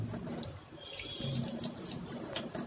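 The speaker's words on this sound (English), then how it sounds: "First, wet your hands." Hands being wetted under a running bathroom or kitchen tap before lathering with jelly soap, a steady close splash of flowing water into a sink with light dripping, no voices.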